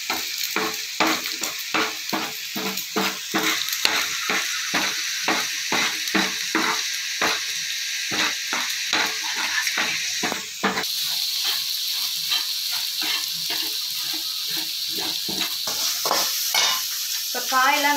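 Vegetables and scrambled egg fry for egg noodles in a hot pan, a constant sizzle cut by quick, rhythmic spatula scrapes and taps that repeat close and loud throughout.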